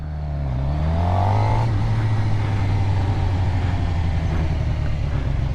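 A sport bike motorcycle pulls away and accelerates, its engine rising briefly then holding a steady, fairly loud drone close by.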